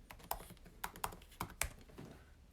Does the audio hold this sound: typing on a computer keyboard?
yes